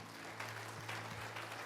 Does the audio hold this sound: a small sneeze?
no